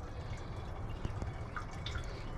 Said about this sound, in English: Got a little bit of water coming out of it.